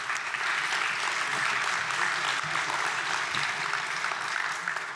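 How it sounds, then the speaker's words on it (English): A community workshop audience claps for the design team, a thick, continuous round of applause filling the whole stretch at an even level. "Worthy of applause"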